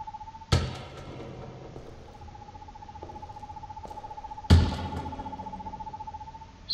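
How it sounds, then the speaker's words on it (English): An owl hoots in the horror game Perception, a steady run of low repeated hoots at an even pace, cut by two loud thuds or slams. "That's an owl."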